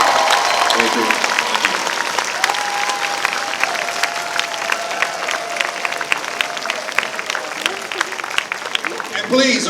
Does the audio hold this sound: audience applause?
yes